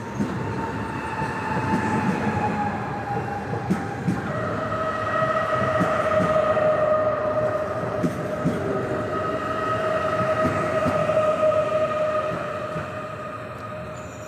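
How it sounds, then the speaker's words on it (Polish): An SKM commuter train, unit WE 27 005 on the Pruszków–Otwock line, rolls into Warszawa Wschodnia station with a long squealing brake tone, wheel clatter and a steady rumble that swells then fades as it slows. "Wjeżdża pociąg SKM relacji Pruszków - Otwock."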